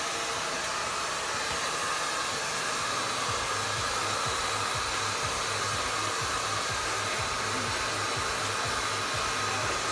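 A hair dryer roars steadily and loudly up close while a brush lifts and dries the roots of medium-length hair, the airflow constant with faint rhythmic brushing beneath.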